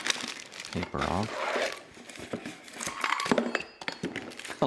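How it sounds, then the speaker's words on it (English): Paper wrapping crinkles and tears as it is peeled off metal-housed 4K PoE security cameras during unboxing, a close series of rustles and rips with a few taps of hardware, alone without talk. "Take the paper off."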